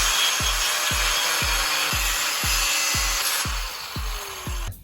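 A hand saw cuts through a template for a custom Polestar-style rear spoiler on a Volvo C30, its strokes landing in a steady rhythm of about two per second, close and clear, over a constant background hiss.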